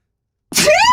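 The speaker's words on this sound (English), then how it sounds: "I went off my mic and sneezed on yours." One sudden, loud sneeze bursts out close to a microphone after a moment of silence, with a sharp breathy onset trailing into a voiced tail.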